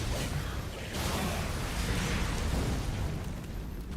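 Boss slam attack in Elden Ring, landing as a loud, broad crashing boom with a whooshing rumble that carries across the whole stretch and then fades slightly, with no talk over it.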